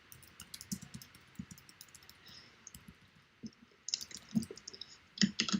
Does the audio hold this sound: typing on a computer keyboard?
yes